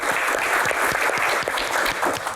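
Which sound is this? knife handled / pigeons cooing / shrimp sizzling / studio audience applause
studio audience applause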